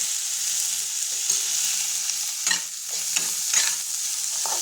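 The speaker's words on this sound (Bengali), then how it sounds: "এটা আমি একদম হালকা করে ভাজি," Tomato and vegetables frying lightly in a pan for Bengali-style masala rice, a steady close sizzle with a few soft stirring scrapes, no voices.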